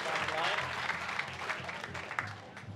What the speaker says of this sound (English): the crowd are giving applause as he clears the fences